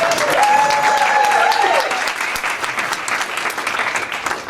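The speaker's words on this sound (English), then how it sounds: "I'd like to hear another round of applause for bringing the Colorado Cup." Audience applause at a climate carbon fund relaunch event, a steady dense wash of clapping from a crowd that fades slightly toward the end.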